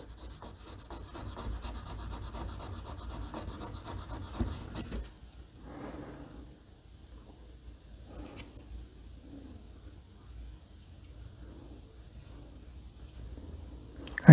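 Sandpaper of 320 grit rubs back and forth across the trunk of a diecast Mopar model car, a dense rasping scrub for about five seconds, then softer intermittent strokes in a quiet room.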